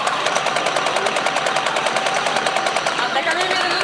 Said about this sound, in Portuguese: enquanto você atira, a sarvinha fica tremendo mesmo. E ela é bem pesadinha.